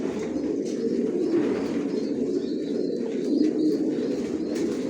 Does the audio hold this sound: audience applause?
no